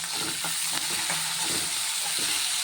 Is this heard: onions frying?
yes